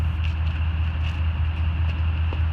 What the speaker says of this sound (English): this truck has a dual chamber Flowmaster exhaust muffler on it, so it sounds pretty sick